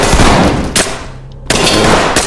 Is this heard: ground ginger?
no